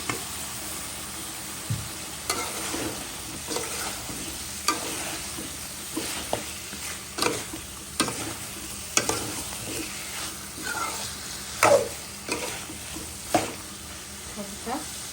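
Eggplant pieces frying in oil in a pan while a hilsa fish curry with potatoes is cooked, a low continuous sizzle under repeated sharp spatula scrapes and stirs spread across the stretch.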